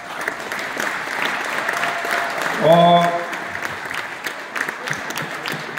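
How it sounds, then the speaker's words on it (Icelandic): Broadband applause from the audience at an Icelandic boccia championship in an indoor hall, steady crackling clapping across the whole stretch, with a voice and a short tonal sound partway through. "Við skulum gefa okkur öllu gott klapp"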